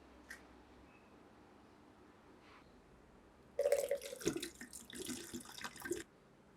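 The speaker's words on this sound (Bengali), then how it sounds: "ডাবের পানি বের করে নিব।" Coconut water is poured out of a green coconut for a chilled coconut sherbet, a soft splashing trickle that begins partway through and runs for a few seconds before stopping, alone in a quiet kitchen.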